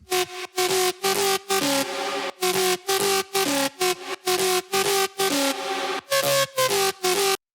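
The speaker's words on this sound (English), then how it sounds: "harmonic bass sounds in bass house music" A thick, harmonically rich synth bass plays in short rhythmic stabs with brief gaps between notes, loud and up front, with no voices.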